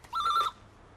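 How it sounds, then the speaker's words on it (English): A telephone at the Rovers Return pub in 1990s Coronation Street gives one short, bright electronic trill, close and clear, then stops with no voices over it. "Vera, the phone hasn't stopped since you went out this morning."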